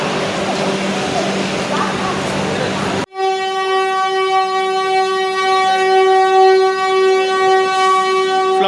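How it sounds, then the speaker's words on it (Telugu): A train arriving at platform 10 on a Hyderabad route sounds one long, loud, steady horn blast that starts abruptly and holds to the end, following a few seconds of busy station noise. "సో మన ట్రైన్ అయితే వచ్చేస్తుంది చూడండి"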